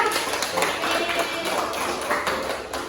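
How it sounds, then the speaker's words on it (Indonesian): A classroom of students claps for a classmate, a dense even patter of many hands at moderate loudness, tapering slightly at the end. "Tepuk tangan untuk Reza"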